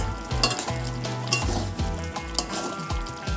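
Patol (pointed gourd) curry with ghee and garam masala is stirred in a hot pan, making a loud, steady sizzle with repeated close scrapes and knocks of the spoon.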